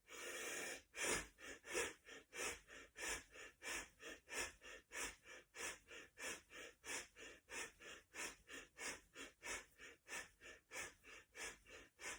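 Deep, forceful breaths pump in a fast, even rhythm during a yoga-style breathing exercise with fists closed and elbows at the sides, about two breaths per second, close and clear with no talking.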